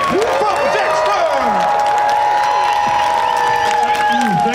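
Audience at a Dexter Q&A panel during the Scaradise 2025 fan convention clapping and cheering loudly for the cast, whoops and shrill whistles riding over sustained applause from a large crowd.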